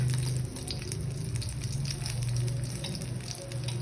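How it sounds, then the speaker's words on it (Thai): Garlic frying in oil in a pan, a steady dense sizzle with a low hum underneath, constant and fairly close throughout with no talking. "จะใส่ น้ำมันแล้วก็พวก กระเทียมมาเพ็ดพร้อมกันเลยเนาะ"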